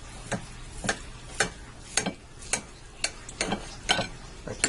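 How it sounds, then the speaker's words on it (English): A knife draws in steady strokes through a roast pork joint glazed with maple and mustard, about ten short crisp cuts in an even rhythm, close and fairly quiet with no voices. "I'm going to slice into it here."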